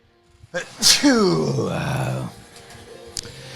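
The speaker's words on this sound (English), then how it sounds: "hold on, I got to sneeze" A single close sneeze: a sharp breathy burst followed by a drawn-out voiced tail, then quiet room noise.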